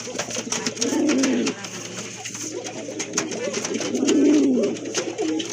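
Kuka pigeons coo close by in a pigeon seller's loft, two swelling bouts of deep rolling coos over a steady background hum.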